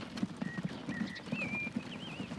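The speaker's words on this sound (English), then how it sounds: "See the horses." Horses pull a carriage in the video game Transport Fever 2, with steady clip-clop hoofbeats in a quick irregular rhythm, close and clear over a faint background hum and occasional high whistling tones.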